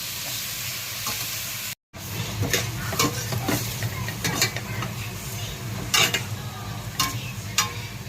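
Chicken pieces sauté in a pan for Filipino chicken soup, a loud sizzle with frequent scraping stirs and clatter, a short dropout early on, no talking.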